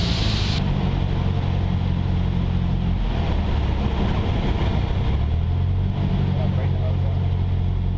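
Light aircraft engine held at about 1200 RPM during a no-flap stall practice, a steady loud drone with low harmonic bands that fills the whole stretch, with people talking over it.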